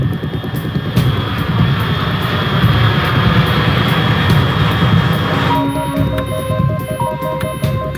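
Steady jet aircraft roar from a video game, loud and continuous, with a sustained low rumble and whine; electronic beeping tones come in over the engine noise near the end.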